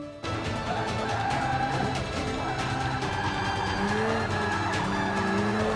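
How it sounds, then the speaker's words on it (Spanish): Race car in Forza Motorsport 5 on the Sebring circuit, engine whining steadily while tires squeal and skid through a drift, a continuous loud mix of engine tone and sliding rubber. "Se derrapa un chingo, pinche carro, güey."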